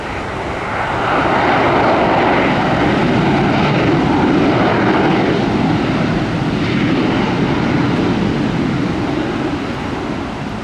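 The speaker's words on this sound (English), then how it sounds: "Somebody taking off on the east side." A jet taking off from Tampa airport on the east side, a loud sustained engine roar swelling in after a second and holding steady, broadband and distant-sounding, with no voices.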